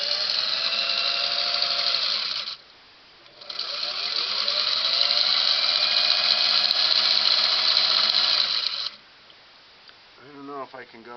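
Singer 301A sewing machine stitching fabric, a steady buzzing whir that runs for about two seconds, pauses briefly, then resumes for several seconds before stopping; a voice speaks near the end.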